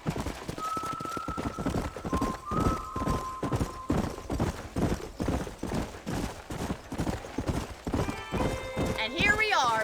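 Horse hooves gallop in a steady, rapid clip-clop rhythm throughout, mixed with a brief whinny and a game soundscape in Red Dead Redemption, with distant gunfire-like pops and some voices near the end.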